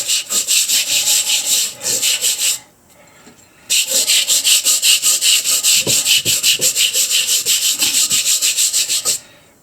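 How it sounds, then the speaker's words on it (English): Lebanese fossil rock is scrubbed hard by hand with a brush, giving loud, close, rhythmic back-and-forth rasping strokes in two long runs separated by a brief pause. "I'm scrubbing pretty hard."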